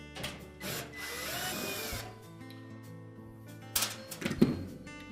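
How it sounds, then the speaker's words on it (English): A cordless power drill backs screws out of the rear panel of a Whirlpool washer, brief whirring runs with pauses, followed by clinking and rattling of the screw and metal panel, fairly quiet and close. "our next step will be to remove these two screws that secure the back panel in place."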